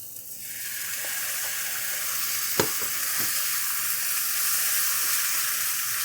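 Spinach dropped into a pan of frying garlic and salty cheese, a bright continuous sizzle with a few sharp crackles and a stirring knock, steady and close, no talking.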